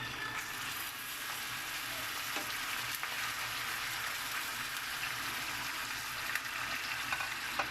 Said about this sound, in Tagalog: ilagay na natin yung ating karne